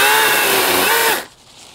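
A Milwaukee M18 Fuel cordless pole saw cuts through a tree branch with a steady, loud, high-pitched electric whine that stops abruptly after about a second.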